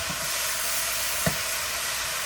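Brussels sprouts sizzle steadily in olive oil in a covered pan over lowered heat, a soft continuous frying hiss with one brief clink partway through.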